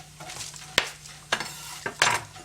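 Tortilla strips sizzle in a hot frying pan while being stirred, with several sharp scraping clacks of the utensil against the pan over a steady background fry.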